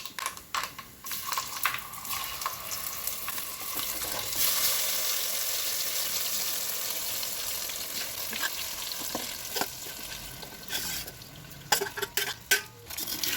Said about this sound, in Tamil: நல்லா கிளறி விடுவோம். எண்ணெய் வந்து சுத்தமாக எல்லா நெல்லிக்காயிலையும் நல்லா படுற மாதிரி கிளறி விடணும்.